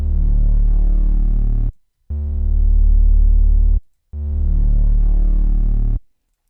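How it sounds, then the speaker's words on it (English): A deep sustained Serum synth foghorn bass note played three times, alternating between a clean, smooth tone and a buzzier, harmonically rich distorted version, with brief silences between. "with and without the distortion so you can hear the difference"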